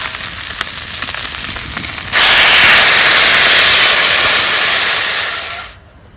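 Water poured into fish frying in hot oil sets off a sudden loud, broad hiss of steam and sizzle. It starts after a quieter background sizzle, holds for about three seconds and then fades out abruptly. No voices.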